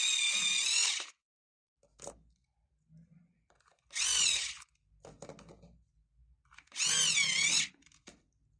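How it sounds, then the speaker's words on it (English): A colored pencil is sharpened in an electric sharpener in three loud whirring bursts of about a second each, close by, separated by quiet gaps with small handling knocks and clicks. "I'm going to sharpen this one because they need to be sharper."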